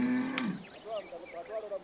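A single cow lows once, mid-distance, against a faint steady insect drone in the open African grazing land where Himba herders keep cattle.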